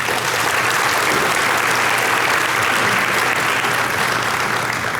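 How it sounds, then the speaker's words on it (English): An audience at a high school awards day claps in a dense, sustained round of applause that holds at an even, loud level throughout, with no voices over it. "Let's give them a round of applause."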